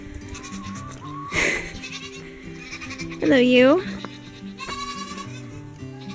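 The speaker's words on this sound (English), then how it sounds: "I think I'm gonna let the goats out for a little bit." Goats on a farm bleat loudly nearby, with one long wavering bleat standing out among shorter calls, while a person speaks briefly to them.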